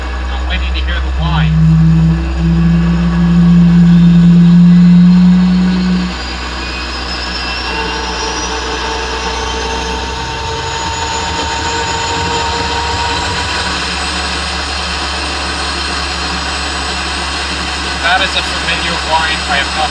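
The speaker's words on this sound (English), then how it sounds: "I haven't started a turbine engine since my Abrams days back about 2008." A tank's turbine engine starts up: a high whine climbs steadily over a constant low rumble, loud and close, with a voice talking early on.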